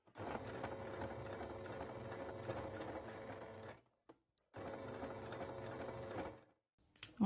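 A sewing machine runs in two steady, fast stitching bursts as it sews a fabric seam close to piping cord, its motor whirring and needle rattling evenly, with a short pause between bursts and no talking.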